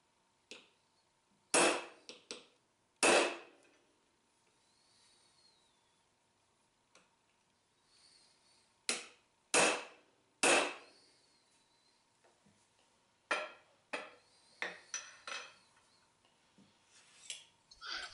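Sharp metallic strikes of a heavy hammer on a center punch come in scattered clusters, loud single and double blows separated by quiet gaps, with a few lighter taps between.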